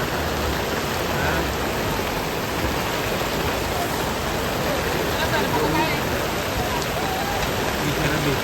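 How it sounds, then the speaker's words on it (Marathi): Heavy rain pours steadily, a dense broadband hiss that stays loud and constant throughout. "रे पावसाचं काय करायला एवढा पाऊस आला"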